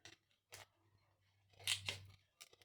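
Scissors snip through sublimation paper in a handful of short, crisp cuts, close and fairly quiet, with a faint hum underneath.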